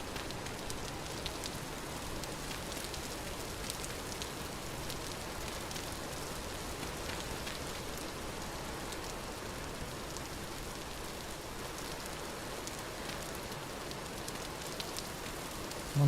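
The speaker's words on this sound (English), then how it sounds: "It is raining though." Rain falling in the video game Vintage Story: a steady, even hiss of rainfall that holds evenly throughout, with no voices.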